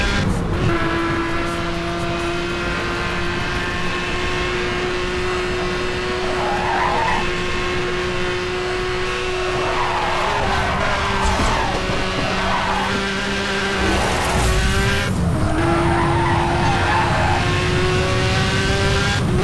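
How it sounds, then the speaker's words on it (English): A car in Need for Speed Hot Pursuit Remastered skids and spins out, tires squealing in long sustained screeches over a loud revving engine, continuous and close throughout, with no voices. "I just spun the car right out."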